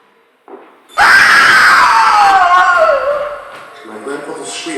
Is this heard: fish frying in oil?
no